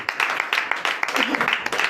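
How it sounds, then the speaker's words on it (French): A short burst of applause at a church night deliverance service in Comè, Benin, with scattered claps from a modest crowd mixed with some cheering voices. "Donnez l'acclamation à nos seigneurs."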